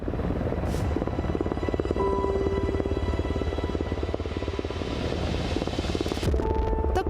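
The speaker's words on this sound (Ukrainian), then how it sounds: "Звук винтокрила." Steady, loud droning rotor and engine noise, continuous throughout with a low thumping hum, like a helicopter close by.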